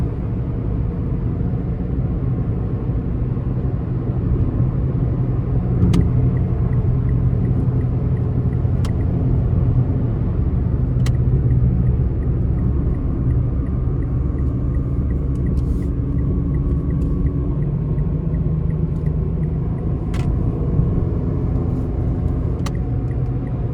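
2024 Mitsubishi Mirage ES in sport mode pulling onto an interstate, a steady low engine and road rumble heard from inside the cabin with a few faint clicks.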